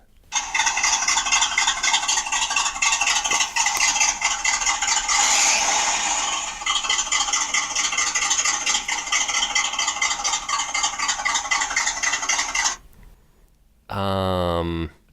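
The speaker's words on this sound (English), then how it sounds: "I'm going to just call it a small block Chevy." A small block Chevy engine runs steadily at a close, loud idle with a continuous rattly drone, then cuts off, followed by a brief tonal sound.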